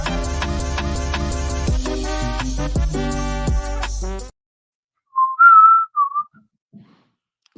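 After a stretch of layered music that cuts off abruptly, a person whistles a few short, clear notes alone against near silence.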